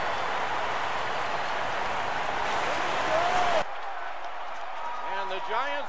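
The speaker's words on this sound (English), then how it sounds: "And the Giants once again win a game in a very unusual way as this crowd goes crazy." A roaring baseball stadium crowd in MLB 15 The Show cheers loudly and steadily as a game ends, then drops away abruptly, leaving a commentator speaking over quieter background noise.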